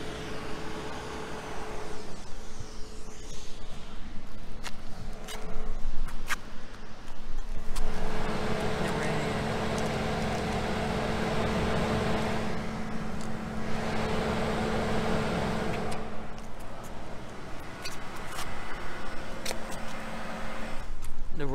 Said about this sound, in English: I'm pointing my microphone towards the ventilator.